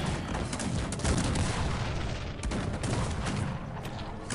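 Cannon and battle fire from the real-time strategy game Cossacks 3, a dense, continuous rumble of overlapping booms and shots that stays loud and steady throughout, with no voices over it.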